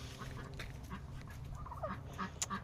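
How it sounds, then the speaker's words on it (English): Ducks honk and quack faintly in the distance, scattered short calls over a low outdoor background hum. "Those are all the other ducks."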